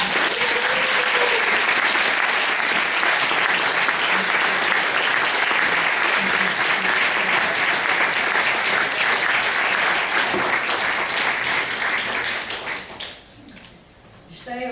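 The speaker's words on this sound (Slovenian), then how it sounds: "prosim za velik aplavz za Petro Matos, Ušo Zgoznik in Jaro Janča" A large crowd gives loud, sustained applause for the leaders of the Očistimo Slovenijo 2012 clean-up project, a dense roar of clapping that holds steady before tapering off near the end.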